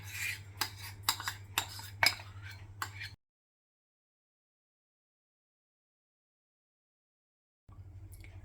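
A spoon clinks and scrapes against a bowl while marinade is mixed into chicken pieces, a quick run of sharp metallic taps over about three seconds, then silence.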